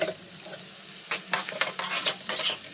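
Chopped onions and green chillies frying in hot oil, a low sizzle punctuated by several scraping, crackling bursts as the pan is stirred, close and moderately loud with no voices.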